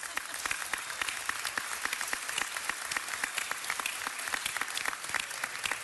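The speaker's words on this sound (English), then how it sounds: "let's give our budget chair a round of applause." City council meeting audience giving the budget chair a round of applause, a steady mid-level wash of many hands clapping with distinct sharp claps standing out across the whole stretch.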